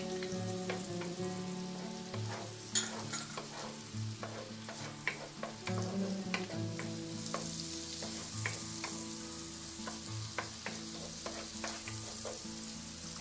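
Sliced onions frying and sizzling in a pan for chicken à la king, a steady crackle with stirring clicks and a low background hum throughout, no talking.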